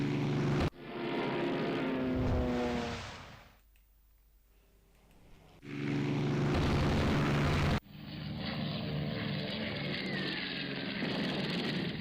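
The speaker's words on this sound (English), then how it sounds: "this final strike wave from our aircraft" Aircraft strike wave hitting ships in a naval warfare video game: loud bursts of engine drone and explosions, broken by a quiet gap of several seconds, then a sharp return to dense, continuous rumble.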